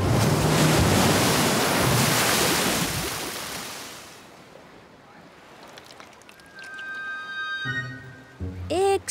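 Cartoon beach scene with ocean waves and tide washing onto the sand, a loud rushing surge that fades over about four seconds into quiet, followed by light whistling and musical tones.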